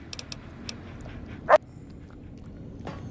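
A dog in the video game Fallout: New Vegas gives a single short, loud bark or yelp midway, with faint yips before it over a low game background hum.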